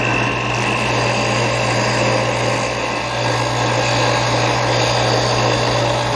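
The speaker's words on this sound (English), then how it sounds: "now we can refine the shape here at the disc sander" A disc sander with 5-inch sanding discs shapes a wooden door pull, giving a loud, steady whir with a low motor hum that runs without a break and with no talking.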